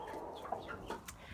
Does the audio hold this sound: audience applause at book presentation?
no